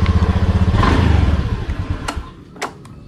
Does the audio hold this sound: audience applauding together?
no